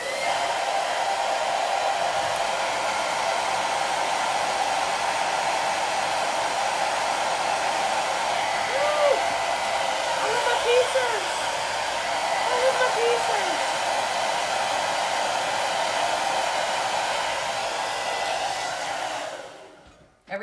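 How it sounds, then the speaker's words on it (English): A blow dryer runs steadily for about twenty seconds, drying chalk paste on a craft project; a loud, even whoosh fills the clip and cuts off at the end. "I need to blow dry that so that it is dry to put the next piece on."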